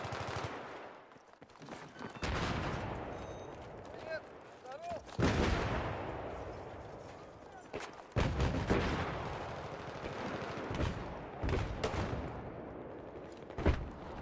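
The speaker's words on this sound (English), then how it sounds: "Somebody with mortar." Mortar fire and other gunfire in Battlefield 3 on PS3 arrive as heavy, booming blasts and rattling shots in irregular bursts, loud and close, with voices talking at times.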